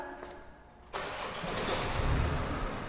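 A car being started by a learner driver during parking practice. After a quiet idle hum, the engine catches suddenly about a second in and settles into a steady, moderately loud running rumble.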